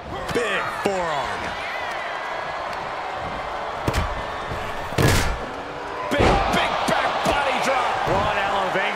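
A forearm strike lands in a WWE 2K24 Last Man Standing match between John Cena and Triple H, a sharp slam-like impact near the five-second mark amid steady arena crowd noise, with commentary voices talking throughout.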